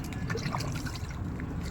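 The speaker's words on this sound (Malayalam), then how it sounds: "ഓരോത്തിനും ചോട്ടിൽ മൂന്ന് ലിറ്റർ വീതം ഒഴിക്കണം" Water poured from a one-litre cup onto the bases of plants, a short soft trickle and splash close by with no talking.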